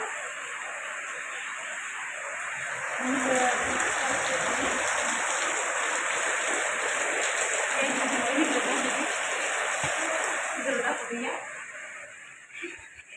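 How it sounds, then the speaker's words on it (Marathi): Heavy rain pours in a dense, continuous hiss and patter for the whole stretch, swelling a little in the middle. Voices murmur faintly beneath it. "इतका जोरदार पाऊस"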